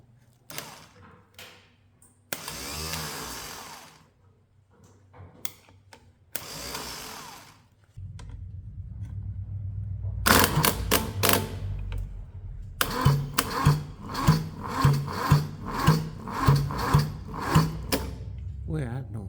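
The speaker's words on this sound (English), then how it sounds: "Let's see if the starter works." Starter cranking a Kubota D640 diesel engine fitted with a D722 cylinder head: a few short whirring bursts come first, then a long, loud, close run of steady grinding with even, rhythmic compression pulses that never catches.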